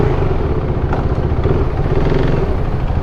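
Motorcycle engine running steadily up close after a repair in Kathmandu, a continuous rough low rumble with mechanical clatter that holds level throughout, with no talk.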